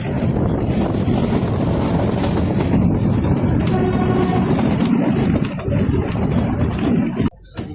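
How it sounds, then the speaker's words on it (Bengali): A toy train pulling into Solan station on the Kalka–Shimla line, a loud rumbling mechanical roar with clattering, sustained throughout before briefly cutting out near the end. "টয় ট্রেন এসে দাঁড়ালো সোলান স্টেশনে"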